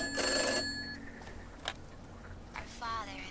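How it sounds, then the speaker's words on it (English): An old-style telephone bell rings in the video game Gray Dawn, a loud burst of repeated ringing at the start, followed by quieter knocks and faint tonal game sounds. "The phone will ring and we can go answer that."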